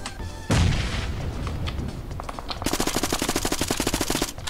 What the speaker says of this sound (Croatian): Sa svih strana se pucaju